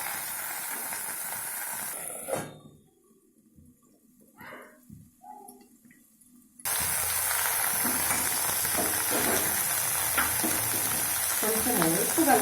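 Ponnaganti greens fry and get stirred in hot oil, giving a steady sizzle with scraping stir sounds. A quieter stretch in the middle has a few faint knocks, then a loud, dense sizzle returns and carries on.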